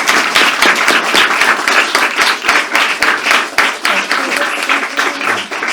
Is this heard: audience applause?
yes